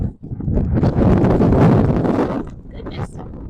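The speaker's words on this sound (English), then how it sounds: "This wind is ridiculous." Strong wind buffets outdoors in a garden during spring bulb planting, a loud rushing roar that swells and eases over a few seconds, with a person speaking over it.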